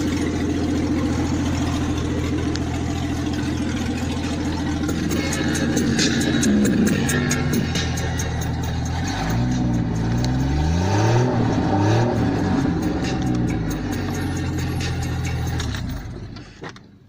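A 1996 Jeep Cherokee engine revs repeatedly with a loud, raspy exhaust, rising and falling in pitch for several seconds before cutting off, with no talk.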